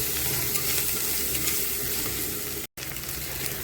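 Salt, turmeric and chilli powder sizzle as spices fry in a pan for a chicken curry, giving a dense, continuous hiss with one brief dropout near the end.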